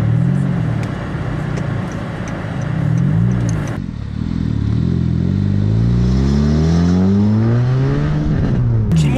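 A custom Honda Fit 3 RS with coilover suspension on a test drive, its engine loud and close from inside the cabin, droning and climbing in pitch as it accelerates, with a clear gear change partway through and more rising revs.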